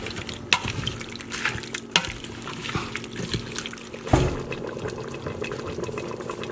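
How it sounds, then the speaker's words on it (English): Vegetables simmer in an Instant Pot on saute mode, giving soft bubbling and trickling liquid sounds with a few light knocks, moderately close and without talk. "I just turned it back on saute mode because I'm gonna add in my vegetables and get them simmered"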